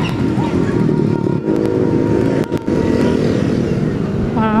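Motorcycles pass on a village road in Kampung Bojong Nangka, Cineam, with a steady, loud engine drone throughout and a brief dip as one goes by, heard from close range.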